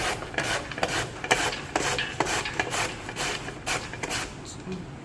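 Repeated rough scraping strokes of a knife against a radish, an uneven rasping rhythm close by.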